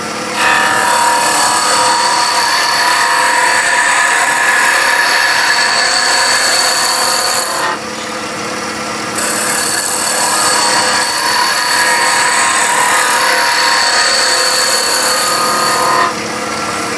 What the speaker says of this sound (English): I'm going to go now to the skew chisel, We're just going to clean that finish up